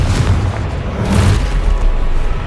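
A Confringo blasting spell explodes in Hogwarts Legacy on PS5, a loud, close, rumbling boom that fills the whole short moment with dense low-end roar and no speech.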